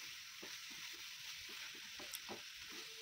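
Potatoes and chicken frying in a pan with a steady broad sizzle, while a spoon or spatula gives repeated soft scraping knocks as the mixture is stirred continuously; no talking.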